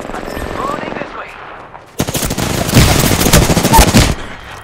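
Rapid automatic gunfire in the shooter game Apex Legends, loud, close bursts of dense machine-gun fire filling the second half after a quieter stretch of game ambience.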